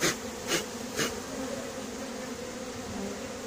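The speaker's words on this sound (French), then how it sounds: "les abeilles là, sur le carton commencent à battre le rappel" A honeybee swarm being collected in a cardboard box gives off a steady, close insect buzz, with a few louder swells as bees pass near in the first second.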